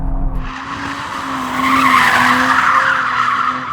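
A high-performance sedan, a BMW M3 or Audi RS4, slides its tyres through a corner under throttle, giving a loud, sustained tyre squeal that wavers in pitch over the engine's roar, close and with no talking.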